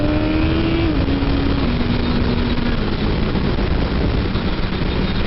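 A 2019 BMW S1000RR motorcycle downshifts, its engine note stepping down in pitch, then holds a loud, steady roar under wind noise throughout as it accelerates on the road.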